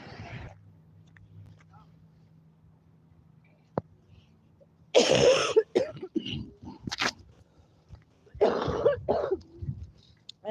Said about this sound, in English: That's that cough.